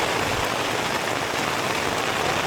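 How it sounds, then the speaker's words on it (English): Heavy rain pounding on a tent at night at a campsite in Caprock Canyons State Park, a dense, loud, unbroken hiss close overhead with no talk. "If it rains like this, it's going to be a lot more than half an inch."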